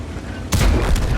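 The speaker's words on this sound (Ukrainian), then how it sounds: "Постріл." A single loud, booming K-2 tank cannon blast erupts midway in an online tank game and rumbles on heavily, over constant game background noise.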